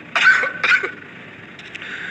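Two short, harsh coughs close together from a teacher during a maths class on ratios, followed by quieter faint noise; no speech.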